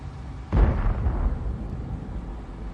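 A single tank cannon shot in World of Tanks, fired by a Strv 103B, booms at 0.5 s and rolls off into a long, fading rumble over steady battle ambience.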